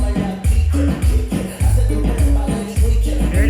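A cumbia music loop at 103 BPM plays loud and close, with a booming bass pattern and a steady beat repeating over a few seconds and no voices.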